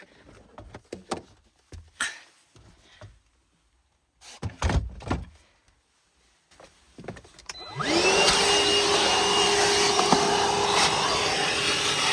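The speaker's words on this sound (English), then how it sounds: "hoover up the mess he's left in the back here" A vacuum cleaner starts up partway through, cleaning mess from the back of a vehicle in a garage, its loud steady whine running continuously after a stretch of scattered knocks and handling noises.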